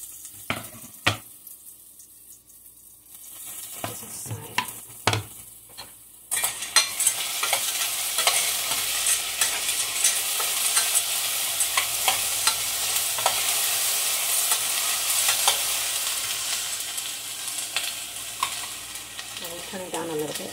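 Onions and tomatoes frying in a pot for shell soup, starting with a few sharp clanks of a spoon before a loud continuous sizzle takes over, with stirring scrapes running through it, close and no talking.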